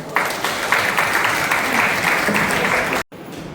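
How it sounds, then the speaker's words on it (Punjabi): An audience at a Punjabi stage event claps steadily for about three seconds, a dense, even wash of applause that stops abruptly. "ਸਾਰੇ ਵਾਸਤੇ ਤਾੜੀਆਂ"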